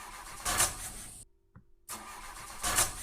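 A car engine in modded Minecraft cranks and sputters without catching, two bursts of starter grinding separated by a short silent gap, close and moderately loud.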